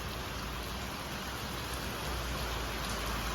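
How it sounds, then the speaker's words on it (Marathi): Heavy monsoon rain pours down at Tuljapur in a steady, dense hiss, unbroken and fairly loud throughout. "सध्या फुल पाऊस चालू आहे"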